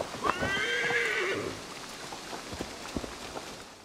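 A horse in Assassin's Creed Valhalla gives one loud whinny up front, then hooves clip-clop lightly over a soft patter of rain.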